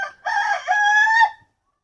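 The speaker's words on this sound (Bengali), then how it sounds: "আমাদের এইখানে আছে সিল্কি মুরগি" A single silkie rooster crows once, loud and close, a drawn-out cock-a-doodle-doo lasting about a second before silence.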